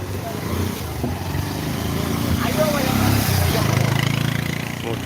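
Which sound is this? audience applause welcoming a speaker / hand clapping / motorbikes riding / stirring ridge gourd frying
motorbikes riding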